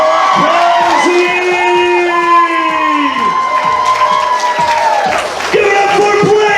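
A crowd at a fursuit dance competition bursts into loud, sustained cheering and whooping, with high shouts and a host's voice rising above the noise.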